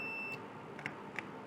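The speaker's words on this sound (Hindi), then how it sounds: "नॉर्मली क्लोज पॉइंट आपको बीप दे रहा है," A multimeter's continuity buzzer sounds across the normally closed contact of a magnetic contactor in its off state. A steady tone cuts off after a moment, then two short faint blips follow, with no voices.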